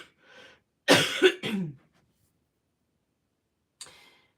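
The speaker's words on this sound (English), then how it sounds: "I'm sorry for the coughing." A person coughs in a quick burst of three harsh, close coughs, followed by silence and one shorter cough near the end, with no talk over it.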